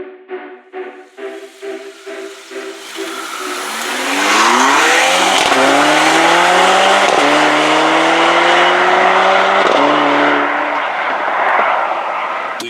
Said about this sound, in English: Obviously, I'm driving the car now.